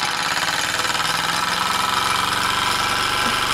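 A Bowman E101 engine opened up to full throttle gives a loud, steady, rapid buzzing drone with a dense, even pulse throughout, close by and with no voices over it.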